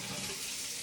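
A kitchen tap runs water for feeding a sourdough starter, a steady close hiss of flowing water with no breaks.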